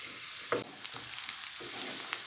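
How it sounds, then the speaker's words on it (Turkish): Onions and garlic sautéing in a pan, a soft continuous sizzle close up, broken by a few light scraping stir sounds as they are moved about, with no speech. "soğanlarımız, sarımsağımız yeteri kadar kavruldu"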